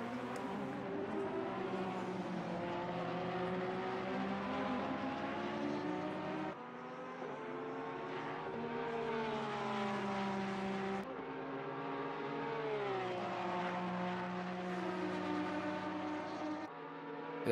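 A Ferrari race car engine in Assetto Corsa Competizione at Paul Ricard drones with a strong harmonic whine, its pitch climbing through gears and dropping at shifts, a continuous and fairly steady roar without talk.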